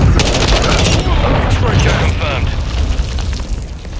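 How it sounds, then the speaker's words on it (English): Deep rumbling boom and rolling blast from a cruise missile strike in Call of Duty Modern Warfare 2 multiplayer, mixed with scattered gunfire, sustained and loud throughout with a voice briefly heard. "Friendly cruise missile deployed"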